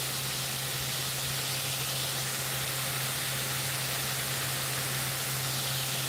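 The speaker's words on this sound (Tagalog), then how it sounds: "Magdagdag ka nga ng konting mantika guys. Spray lang natin para hindi masyadong madami." Cooking oil sprays into a pan in one continuous hiss that holds at an even level from start to finish, alone and close.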